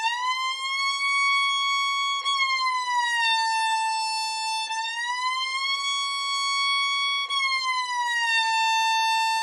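A single bowed violin note sliding slowly up and down in pitch, rising and falling like a siren, sustained and alone.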